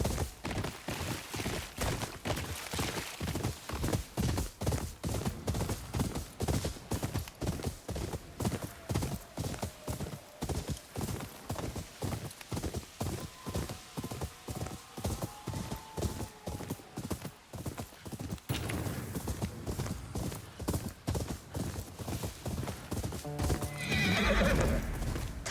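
Horse gallops in the video game Ghost of Yōtei with steady rhythmic hoofbeats, joined by a neigh partway through and a burst of gunfire-like crackles near the end.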